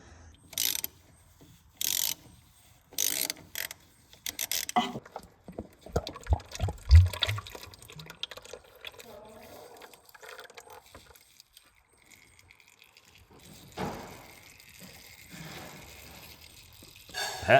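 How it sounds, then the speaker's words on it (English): Hydraulic fluid drains from the hydro filter of an Exmark Lazer Z mower. Close mechanical clicks and clanks come first, then a steady trickling stream. "when you pull this out, fluid drains immediately"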